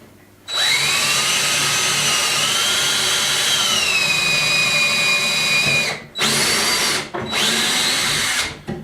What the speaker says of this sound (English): Assuming my drill bit's big enough.